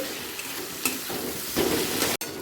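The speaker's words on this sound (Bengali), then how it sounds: "টমেটোটা পেঁয়াজের সাথে এক মিনিট ভেজে নেব" Chopped tomato frying with onion in a pan for a chicken curry sizzles steadily while a spoon stirs and scrapes through it in a few bursts, ending with a sharp clack of the utensil.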